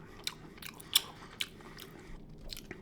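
Crunchy bites into fried chicken with nasi lemak in Malaysia, a few sharp, close crackles spaced out against a soft background murmur, the loudest near the start.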